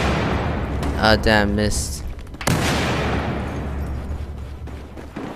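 A grenade explodes in Battlefield 4 multiplayer, a sudden loud broadband blast that decays into a long rumbling tail. Someone talks just before it, and gunfire and game noise continue underneath.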